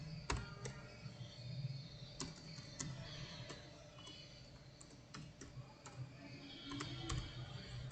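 A comment being typed on a computer keyboard: a quiet, irregular run of light key clicks over a faint room hum.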